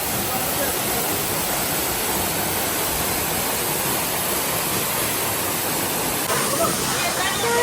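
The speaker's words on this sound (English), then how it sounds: "Guys, we're at the volcano place and there's loads of waterfalls." Waterfall near a volcano area in St Lucia, a broad, continuous rushing roar of falling water close by, steady throughout.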